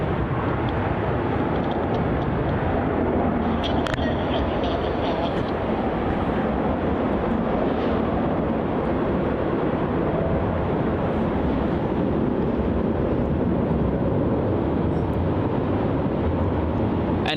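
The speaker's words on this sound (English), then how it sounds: "On departure now we have Jetstar flight JQ380 off to the Gold Coast." A Jetstar jet airliner departs Melbourne Airport, its broad engine roar rumbling steadily throughout with wind buffeting the microphone, while a voice talks over it.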